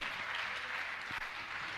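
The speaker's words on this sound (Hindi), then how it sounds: "आप भी इनकी तालियां बजाकर इनका प्रोत्साहन करें" An audience at a religious discourse applauds to honour donors, with steady, dense clapping filling the hall continuously for a couple of seconds, with no voices over it.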